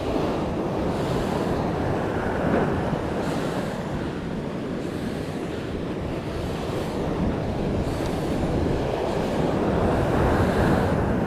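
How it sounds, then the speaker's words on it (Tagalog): Heavy surf from big ocean waves with strong wind buffeting the microphone, a continuous loud roar that swells and breaks steadily throughout, no voices. "Oops, laki ng alon mga master."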